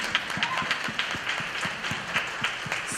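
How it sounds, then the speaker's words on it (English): An audience at a women-in-email event breaks into continuous applause, a dense wash of many overlapping claps with steady intensity throughout, heard at moderate distance in a room. "was that an applause?"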